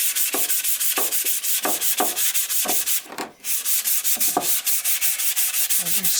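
Hand sanding along the grain of shellac-coated wood with 320 extra fine sandpaper, close and steady rhythmic back-and-forth strokes with a brief pause midway.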